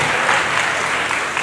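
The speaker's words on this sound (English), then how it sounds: "Let's clap for them." Clapping from an audience at an Ashanti Regional aviation tourism event welcoming tertiary and senior high school groups, steady and dense for the whole moment with no break.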